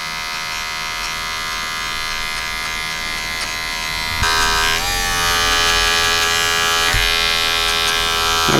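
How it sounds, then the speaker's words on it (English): A Magic Clip hair clipper buzzes steadily while tapering a classic gentleman's haircut, a close, constant electric hum that shifts in tone partway through as the blades meet hair, with no talk. "so I'm using a magic clip"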